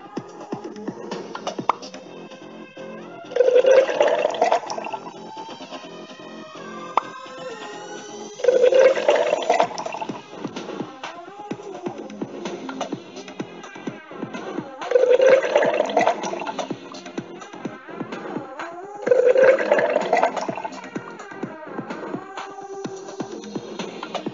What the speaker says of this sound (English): Liquid to each of the jar.